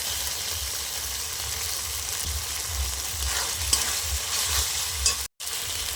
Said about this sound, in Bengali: মশলার সাথে টমেটোটা ভালো করে একটু কষিয়ে নেবো